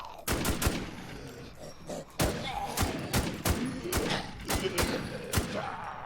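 Sharp gunshots ring out in irregular bursts in the zombie shooter DeathmathZ, a WarZ emulator, some single cracks and some quick doubles, loud and close over low background noise.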